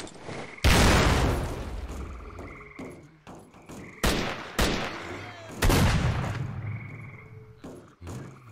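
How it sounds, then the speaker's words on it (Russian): Grenade blast and bursts of gunfire in the shooter game S.T.A.L.K.E.R.: Call of Pripyat, with several loud booming detonations and rattling shots that decay into a ringing tail, close and dominant with no talk. "Граната!"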